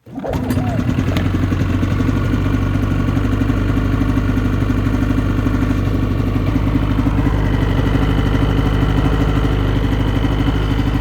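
A snowmobile engine idles steadily and close by, running roughly with a boggy, low idle: a low, continuous rumble with a slightly uneven, lumpy quality throughout.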